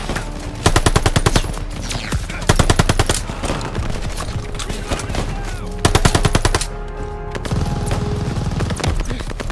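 Bursts of machine-gun fire in Call of Duty: Vanguard suppress a half-track: several rapid, loud automatic volleys alternate with sustained battlefield rumble and a brief lull near the end.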